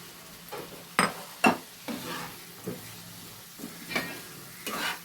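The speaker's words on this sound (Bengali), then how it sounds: "এবার এর সাথে আমি ছানাটাকেও মিশিয়ে দেব।" A spoon scrapes and stirs chhena, fresh cottage cheese, into hot oil in a pan for a chana matar dish, with soft sizzling and several distinct clattering strokes spaced irregularly, close up.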